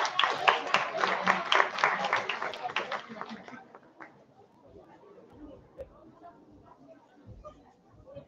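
A crowd applauds at a high school freshman ball, with dense clapping for about three seconds that then thins and fades into quieter murmur and scattered claps.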